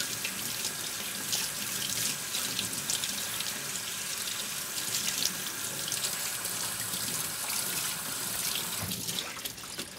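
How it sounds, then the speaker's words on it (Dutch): Cold water runs steadily from a kitchen tap over cooked green beans in a colander, a continuous close hiss and splash that lasts the whole stretch, ending with a few clunks as it stops. "stop het garingsproces door even de koude kraan eroverheen te laten gaan"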